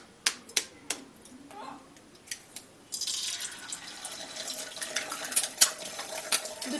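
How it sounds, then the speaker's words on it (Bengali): Two eggs go into hot mustard oil in a wok: a few sharp taps and clicks come first, then a steady crackling sizzle rises and continues, close by. "এখন আমি তেলের মধ্যে প্রথমেই ডিম দুটোকে ভেজে নিচ্ছি।"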